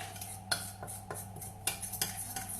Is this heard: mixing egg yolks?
yes